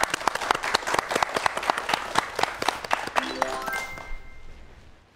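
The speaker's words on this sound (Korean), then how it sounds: "여러분 박수로 청해 보도록 하겠습니다" Lively audience applause at a talk event on science fiction films and time travel, dense clapping that holds steady and then fades out, with a few bright ringing tones near the end.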